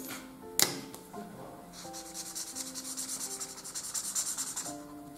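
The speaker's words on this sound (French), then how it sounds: "maintenant je vais gommer tous les traits de construction" An eraser scrubs away pencil construction lines on a drawing of Boruto Uzumaki, a sharp tap followed by soft, rhythmic back-and-forth rubbing strokes close up, faint and quiet with no speech.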